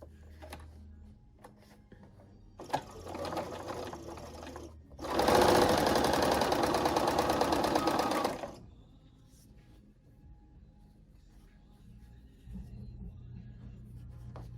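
Sewing machine stitching flower patch quilt pieces together, a steady buzzing run in short bursts with a longer loud stretch in the middle, close by, with no talking.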